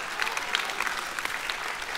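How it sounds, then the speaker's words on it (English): Audience applause in a church or sermon setting, a steady wash of clapping at moderate level lasting the whole two seconds, with no talking over it. "not sure I like that applause"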